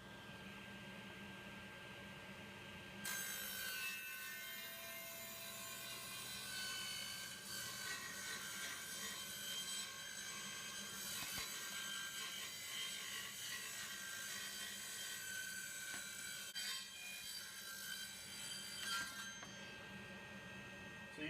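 A saw rips lengthwise through wooden boards for a park bench, a sustained harsh cutting roar that starts after a quiet moment and runs steadily, fading out at the end.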